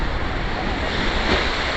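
Rough ocean surf at Fort Lauderdale beach, a loud, continuous roar of breaking waves mixed with wind buffeting the microphone, with no talk.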